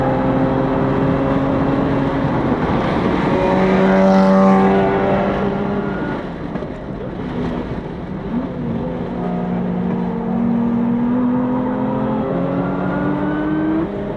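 A Lotus Emira and other cars run laps on a racetrack during a track day, with sustained engine drone and gear-change pitch sweeps from close range, steady and loud, with no talk.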